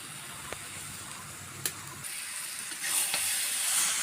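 Taro (kalo kochu) sizzles steadily in a pan on the heat as its cooking water dries off, a continuous close hiss with a few soft stirring taps and the sizzle swelling louder near the end.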